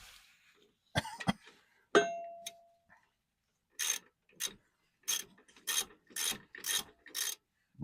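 Ratchet wrench tightening small rear brake bolts on a Chevrolet Tahoe: a few sharp metallic clangs early on, then a close, steady run of about eight quick ratcheting bursts with short pauses between them.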